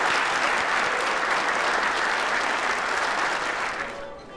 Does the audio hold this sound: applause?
yes